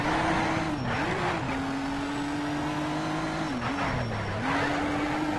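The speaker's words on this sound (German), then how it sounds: "Man hört es einfach nur, wie hinter einem die Motoren röhren." Race car engines roar and rev continuously inside a tunnel in the Need for Speed Shift racing game, a loud steady drone with pitch dips as gears shift, two rises and falls over several seconds.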